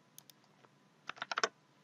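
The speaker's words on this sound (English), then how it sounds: "And then I click on OK again" Computer mouse clicking in Etabs structural software while defining materials, a couple of faint early clicks followed by a quick cluster of sharper, louder clicks near the end, close and with no talk.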